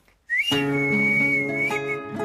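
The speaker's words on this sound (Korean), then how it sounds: "이게 어부들이 고기를 잡을 때 고기들을 부르는 소리였어요" A single sustained, resonant whistle, made inside the mouth by a Korean fisherman calling fish, holds a steady high pitch for about two seconds, loud and close, with a slight rise at the start.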